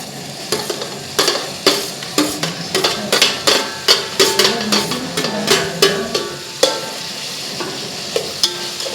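Tomatoes stirred into frying onions in a pan, a close series of sharp spoon knocks and scrapes against the metal in an irregular rhythm, roughly twenty strokes over light sizzling, no speech.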